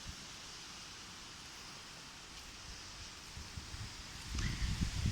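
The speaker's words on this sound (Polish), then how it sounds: "Ale wiatr się zerwał." Wind rustles through leaves outdoors, a soft steady hiss that swells slightly near the end with a louder gust.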